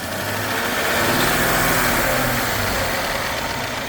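A Mercedes-Benz S500 S-Class with an engine fault running loudly up close, a steady rough roar with a broad noisy hiss and no pauses.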